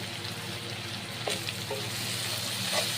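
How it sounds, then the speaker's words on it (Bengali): Spices with Kashmiri chili powder, turmeric, salt and sugar sauté in a pan for a pabda fish curry, a continuous close sizzle with a few light stirring clicks. "ভালো করে এক মিনিট মতো কষিয়ে নিতে হবে সব কিছু"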